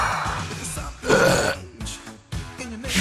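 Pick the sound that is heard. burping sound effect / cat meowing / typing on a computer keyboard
burping sound effect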